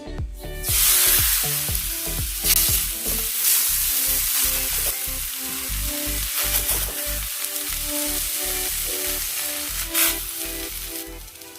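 A rajgira and sabudana thalipeeth flatbread sizzles loudly and steadily on a hot griddle, with a sharp hiss when it first lands and quick, close clatters as it settles.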